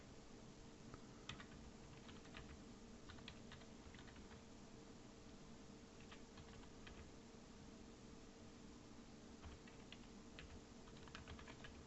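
Fast, light typing on a computer keyboard while coding, clicking in short irregular runs over a steady background hiss, faint and close, with no voices.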